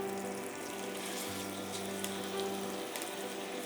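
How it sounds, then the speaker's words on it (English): Steady hiss and sizzle of beef browning in melted butter in a pan, continuous and fairly close, with a faint low hum underneath and no talking. "All the butter is melted, so now we're going to brown the meat."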